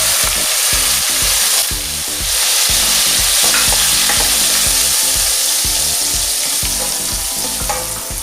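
Tomato puree cooking with ginger and green chili paste in a pan, a loud constant sizzle layered with rapid rhythmic scraping strokes of a spoon stirring, close by and without speech.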